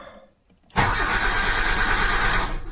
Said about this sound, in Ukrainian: двигун крутиться стартером, але він не заводиться